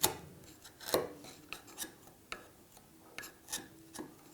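Chisel worked by hand through dovetail waste in a wooden board held upright in a vise, giving a series of short, dry scraping and rasping strokes with small taps, close by and fairly quiet.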